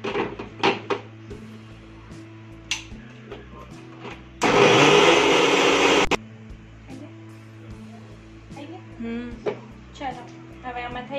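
A kitchen mixer grinder blends khandvi batter with turmeric and salt in a loud roaring burst lasting about two seconds, with quieter kitchen clatter before and after.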